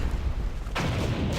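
A burst of in-game explosion in Blue Archive, a low rumbling boom that suddenly swells into a loud, broad blast after a brief buildup and sustains to the end.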